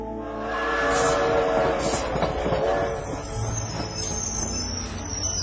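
A passenger train running along the rails, a steady rumbling roll with clattering wheels, swelling and then easing slightly, fairly close and alone with no voices.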